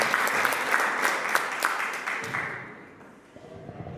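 Loud, dense applause from a gathered crowd at a community event in Rajasthan, strong at first, then fading away over a few seconds as the clapping dies down.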